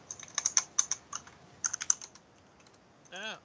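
Quick clicking keystrokes on a computer keyboard come in uneven rapid bursts, close and crisp, with a short pause before a brief swooping electronic tone at the end.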